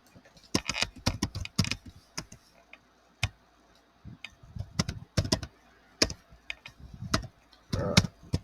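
Typing on a computer keyboard while logging in to a local PC, irregular bursts of close, crisp key clicks separated by short pauses, with no talk.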